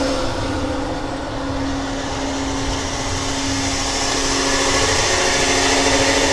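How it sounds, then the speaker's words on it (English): Propane transfer pump droning steadily while filling a bobtail truck, a loud continuous mechanical hum with a strong low tone that builds slightly toward the end, no talking. "So I'm going to start the pump to start the transfer process."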